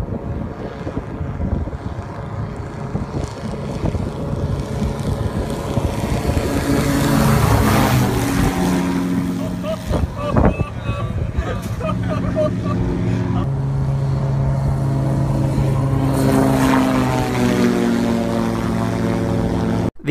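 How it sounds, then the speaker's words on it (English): A loud engine drones steadily over water as an Airfish 8 ground-effect plane flies just above the surface, rising and swelling as it passes, with wind rushing across the microphone and a voice speaking at times. "This is the Airfish 8, and it's a plane that's designed to fly right above the water."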